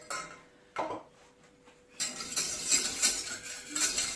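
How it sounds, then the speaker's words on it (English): A whisk works through white sauce in a pan, with a brief clink near the start and then steady, busy metallic scraping and rattling that grows louder for the second half, close up and with no talking. "I find it easier to start with just a whisk, and it helps to smooth out any lumps."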